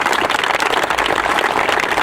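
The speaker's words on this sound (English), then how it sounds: "Let's give them a big round of applause." Brief burst of dense, loud audience applause honoring Special Olympics athletes at an outdoor event, a continuous wash of many hands clapping close by.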